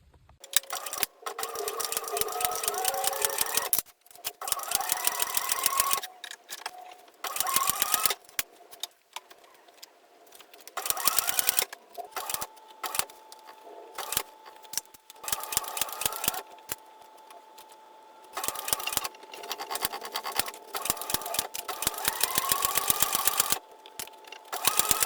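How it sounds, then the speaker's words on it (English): A cylinder arm sewing machine stitches bag panels, sounding in repeated rapid mechanical bursts separated by short pauses, close and moderately loud, with no talking. "now we're going to take this to the cylinder arm machine and sew these panels in place"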